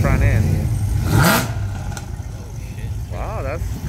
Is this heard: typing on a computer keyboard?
no